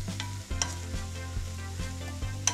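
Sliced potatoes sizzle steadily in an oily pan while being stirred, with a scraping stroke about every half second over the continuous frying hiss and no one speaking.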